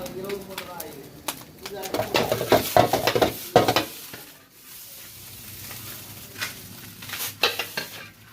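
Street-food egg fried rice stirred with oil in a pan, with loud clattering scrapes and a steady sizzle in bursts, while people talk nearby.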